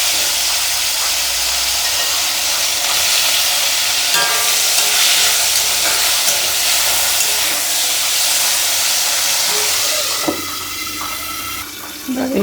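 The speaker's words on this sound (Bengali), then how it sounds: "এই তেলেই আমি বাকিটা ভেজে ফেলব।" Potato fries frying in oil give off a bright, steady hiss that runs without a break, close and fairly loud, with a few utensil clinks near the end.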